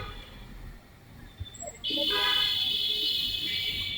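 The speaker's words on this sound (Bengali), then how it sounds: "বিনা কারণে হর্ন দিচ্ছে তো দিচ্ছেই" Faint background noise gives way to a loud, sustained vehicle horn blaring for about two seconds, close by and unbroken.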